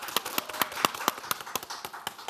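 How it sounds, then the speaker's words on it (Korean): A small studio audience claps in a quick, uneven patter of sharp individual hand claps on a Korean talk broadcast, close and fairly light, with no talk over it. "박수 한번 주세요."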